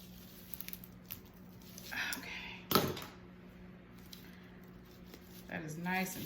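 Scissors trimming a rustic wreath with a few soft snips and rustles, one sharper cut standing out, under steady nearby talk.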